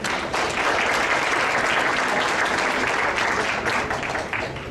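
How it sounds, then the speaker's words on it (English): Dense, steady crowd applause at a 2014 ceremony in which a state senator honors senior volunteers from the Vietnamese community. The clapping stays loud and even throughout, then tapers slightly at the end. "Let's give a round of applause for Vinh T."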